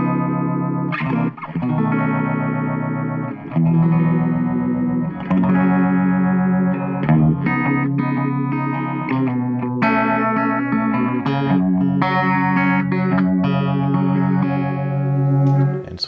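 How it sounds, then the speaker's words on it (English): A Tortuga Mai Tai dual classic phaser pedal with the rate turned up for a Leslie-type swirl, shaping a sustained, heavily processed instrument line that plays continuously and loudly throughout. "turn up the rate, get more of a Leslie type sound."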